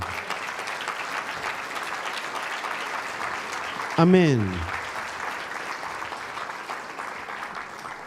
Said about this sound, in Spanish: Le demos un aplauso al Señor.